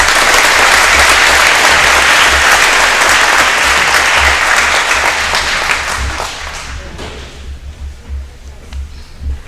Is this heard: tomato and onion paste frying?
no